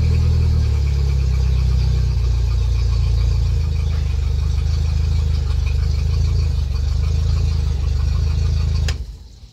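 A loud outboard motor on a 2007 Fisher Liberty 180 boat idles steadily with a low, even rumble for several seconds, then cuts off abruptly near the end.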